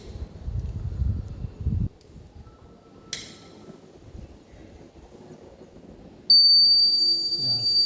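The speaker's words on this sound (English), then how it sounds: "The buzzer is working and the gas leakage is" A high-pitched electronic alarm tone from a gas cylinder leak detector's buzzer sounds steadily near the end, after quiet handling noises, a brief click, and faint voices.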